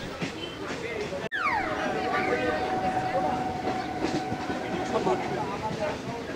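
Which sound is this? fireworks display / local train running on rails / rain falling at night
local train running on rails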